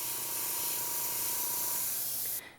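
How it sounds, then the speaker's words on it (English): A spray can puts a continuous flat hiss of white paint onto a black piece, close and steady, then cuts off abruptly near the end. "I generally start with just a flat spray"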